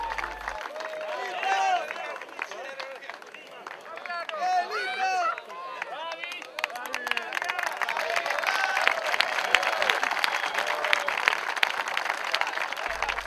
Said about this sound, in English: Well-deserved appreciation from the crowd of hundreds.